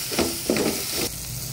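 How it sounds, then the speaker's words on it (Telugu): Taro root tamarind stew sweetened with jaggery gets stirred in a pan, a couple of short scraping strokes over a soft, steady simmering hiss, close and moderately loud. "ఇప్పుడు ఇది మొత్తం బాగా మిక్స్ చేసుకోండి"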